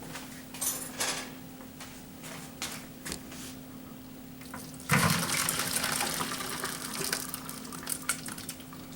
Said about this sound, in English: let's go drain it. Okay, there's our strainer. We're going to pour it into and get all the water out of it.